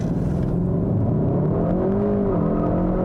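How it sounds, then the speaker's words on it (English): A 2021 Kia K5 GT sedan with a 2.5-litre turbo launching hard under launch control with its wheels spinning, heard as a sustained, steadily rising engine drone with a constant whirring roar and no talking. "Oh, still spinning the wheels."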